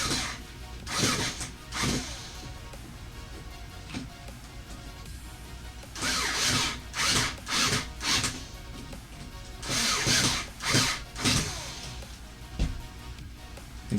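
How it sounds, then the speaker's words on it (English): A handheld drill drives screws into a Tamiya TT01 RC car chassis, with several short bursts of whirring separated by pauses and a few quick clusters of back-to-back runs, close and fairly loud. "we'll go back to the drill"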